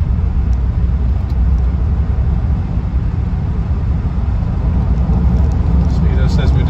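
A 1976 Rolls Royce Silver Shadow cruising at 60 mph, with a steady low engine and road rumble loud and continuous throughout, and someone talking over it.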